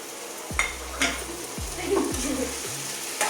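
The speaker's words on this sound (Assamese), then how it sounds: "বিলাহী দিয়াৰ পিছত আৰু 5 মিনিটমান ভাজিব লাগিব" Chopped tomatoes sizzle in hot oil in a pot while chicken pulau cooks, a steady crackling fry broken by several low scraping stirs of a spoon against the pan.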